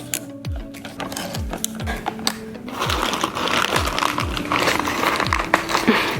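A part being unscrewed on a Boosted Board electric skateboard, heard up close as a regular series of short ratcheting clicks and scrapes, about eight strokes, with faint background hum.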